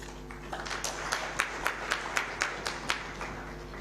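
Brief applause rises for a government minister at a dialogue on ending child labour, a thin sprinkling of claps in a fairly even rhythm over a low steady hum, heard from a distance.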